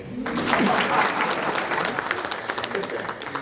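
An audience at a data-protection presentation breaks into a short burst of lively applause, loud and close, lasting about three seconds.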